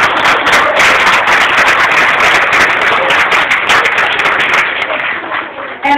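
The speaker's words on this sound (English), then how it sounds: "fourth graders, let's give our teachers a great big hand." An audience at a school honor roll awards event claps for the teachers, a dense, continuous round of hand clapping that tapers off toward the end.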